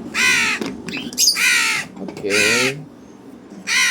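A crow caws loudly and harshly in a series of close calls around a morning coffee and bird-feeding scene, with brief pauses between them and a short spoken word in between.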